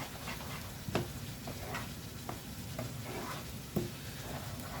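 A spoon stirs ravioli filling with a generous amount of cheese for baked smoky mozzarella ravioli. A few distinct scraping strokes land over a constant sizzling, crackling background.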